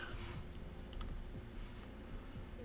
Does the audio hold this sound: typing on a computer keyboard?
yes